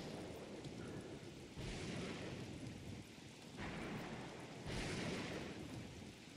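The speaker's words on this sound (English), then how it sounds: "Lightning is brutal." Thunderstorm in the video game Don't Starve: broad rumbling thunder swells in slow waves over a steady rain-like wash, with loud surges around the second and fifth seconds and no talking.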